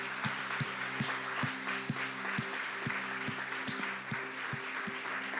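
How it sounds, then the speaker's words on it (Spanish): A church congregation applauds through a service, a dense steady wash of clapping with sharp regular beats and sustained instrumental tones running beneath. "Den un aplauso al Señor."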